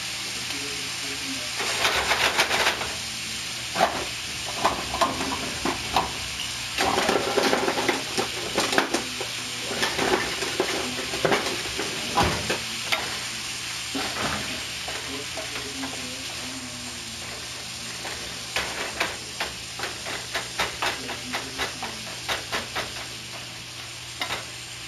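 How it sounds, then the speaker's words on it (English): Vegetables sauteing in a hot pan give a steady soft sizzle, broken by repeated scraping and stirring clatter from a utensil against the pan, moderately close, with no voices. "So what I'm going to do right now is I'm going to saute these veggies off."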